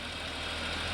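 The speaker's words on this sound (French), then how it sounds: "Voilà un moteur fin qui tourne avec du Mecassil." Steady, close running of a small engine treated with Mecacyl lubricant, a smooth even hum with a faint mechanical patter and no voices.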